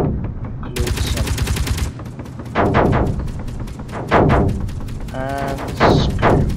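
Turret gunfire in Space Engineers survival: loud, rapid automatic bursts in several separate volleys, each a fast rattling stream of shots, with short pauses between them.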